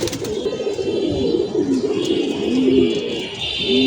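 Flock of young domestic pigeons circling overhead in an afternoon flight, with steady cooing and bird calls close by over a continuous outdoor background.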